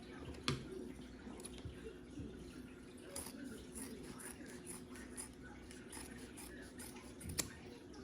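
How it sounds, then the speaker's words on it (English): Scissors snip through fabric around a bra cup while sewing, a series of faint, close clicks and cuts at an uneven pace over quiet room tone. "So cut right along there. I'm gonna do the same for this side."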